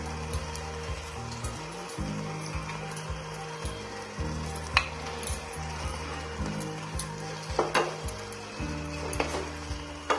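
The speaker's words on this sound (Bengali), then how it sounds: "তাও আমি উপর থেকে একটু ঘি দিয়ে দেবো।" Ghee poured over banana stem and lentil-dumpling curry in a pan, a faint sizzle under a low steady hum, with a few scattered utensil clinks and taps, close by and without talk.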